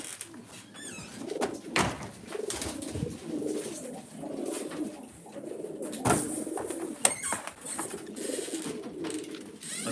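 Racing pigeons coo softly and continuously in a loft while being basketed, a low murmuring chorus broken by occasional wing flaps and faint clatter.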